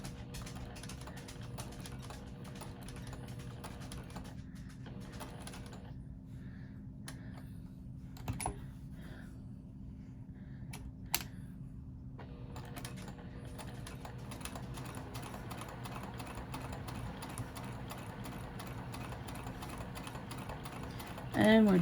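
A sewing machine runs steadily while stitching a patchwork bag, with a constant motorized hum and rapid needle chatter. It eases off briefly near the middle, then resumes at full pace and continues to the end.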